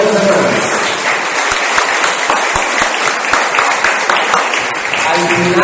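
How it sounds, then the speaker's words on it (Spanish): A church congregation applauds together at the close of a blessing, a steady wash of many hands clapping that fills the space evenly throughout, with occasional voices mixed in. "Denle un aplauso al Señor y a sus hermanos."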